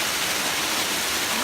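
A waterfall on the GR10 trail rushes with a dense, steady broadband roar, loud and close, filling the brief moment without a break.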